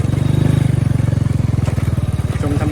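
A Honda Wave100 motorcycle ridden slowly, touring style, in Huai Samran national park, its engine chugging close by in a rapid, even low putter that eases and roughens toward the end.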